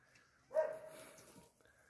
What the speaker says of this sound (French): Après, c'est un chien qui aboie,